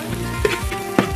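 Pork belly and green wheat kernels stir-frying in a hot wok with scallion, ginger and chili, a steady close sizzle with brief scraping stir strokes.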